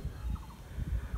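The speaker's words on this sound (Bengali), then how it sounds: "এখানে বেশ কিছু হাঁস খেলে বেড়াচ্ছে।" Ducks at a tiny lagoon on the dried-up Padma riverbed give a few short, soft quacking calls close by, faint over low background rumble.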